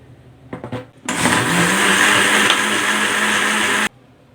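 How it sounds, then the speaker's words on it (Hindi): A kitchen mixer grinder blends a chikoo and Milo milkshake, roaring loudly and steadily for about three seconds after a few soft handling knocks, then cutting off abruptly. "इसको हम कवर करेंगे और ग्राइंड करेंगे"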